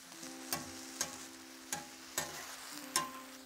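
Onion and cabbage sizzle softly on a grill, with a faint continuous hiss. About six sharp taps or clacks from a utensil land at irregular intervals over it.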